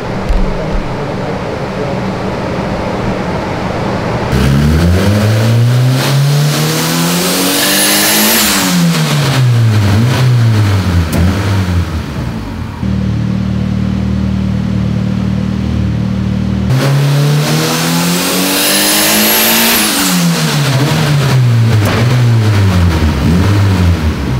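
Turbocharged budget B18 non-VTEC car engine revving hard in repeated loud pulls, pitch sweeping up and falling back, with a steadier idle-like drone between the two runs and no talk.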